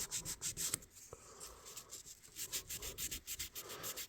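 Rhythmic back-and-forth scrubbing on a rusty vintage knife blade, a fast series of rasping strokes with a brief pause, close and steady, with no talking.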